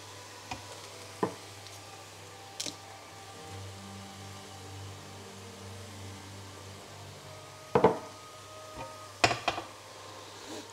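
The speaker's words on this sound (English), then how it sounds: "We just need to make the onions sweat" Onions sweating in a pan, a quiet steady sizzle with a faint hiss, broken by a few sharp clatters of stirring utensils against the pan.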